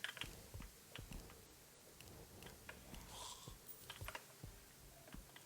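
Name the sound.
computer keyboard typing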